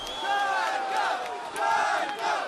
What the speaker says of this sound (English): The pro-Russian crowd cheers as Ukrainian government supporters are literally thrown out of the building